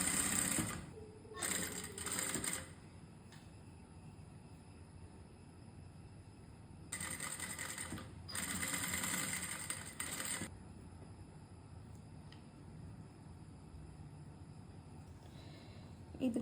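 A sewing machine stitches a frock nighty in two faint bursts of rapid mechanical chatter separated by quiet pauses, with low room tone throughout.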